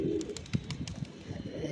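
A female pigeon, wings opened, is released by hand near other pigeons; soft cooing and faint rustling flutters sound at a distance over steady background noise.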